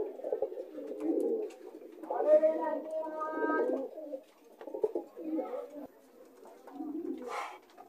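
Lahori Sirazi pigeons cooing at close range, soft throaty rolling coos that rise and fall through the clip with a brief sharper call near the end, mixed with light background murmuring.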